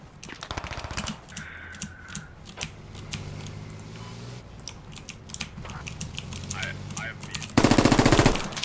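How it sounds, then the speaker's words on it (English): A heavy machine gun fires in a video game battle in rapid, loud bursts, with a dense sustained stretch near the end, while players shout over the gunfire. "They're using our own HMG against us!"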